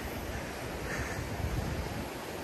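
A babbling brook or river in Switzerland gives a steady, broadband rush of flowing water. It sounds fairly close and continuous, with no voices over it.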